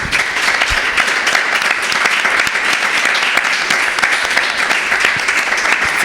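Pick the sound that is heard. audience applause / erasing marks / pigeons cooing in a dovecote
audience applause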